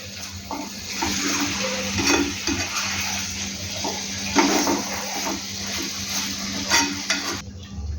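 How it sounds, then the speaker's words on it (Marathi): Chicken pieces sautéed in masala for chicken sukka, a moderate sizzle with repeated stirring scrapes and occasional clinks of the pan, close by and without talk. "चांगलं पूर्ण मसाला लागूपर्यंत आपण ह्याला थोडंसं परतवू"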